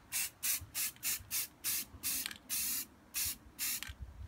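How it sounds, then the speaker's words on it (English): An aerosol spray paint can coats a homemade phone speaker in short, evenly paced hissing bursts, about a dozen close, sharp sprays with brief gaps between them and no talking. "Spray paint this."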